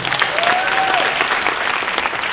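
An audience at a hackathon event applauds a presenting team with loud, steady clapping throughout, and a brief whistle rises above it.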